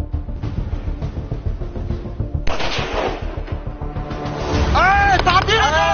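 A soldier fires a rifle at targets during a scout competition abroad, with several sharp shots that grow louder and denser toward the end, mixed with background noise and possible shouting.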